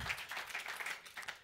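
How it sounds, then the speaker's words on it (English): Audience applause at an Old Mutual conference for Riaan and Lynette, a soft, distant patter of clapping from a modest crowd, fairly quiet and steady throughout the short stretch. "a round of applause once again to Riaan and Lynette"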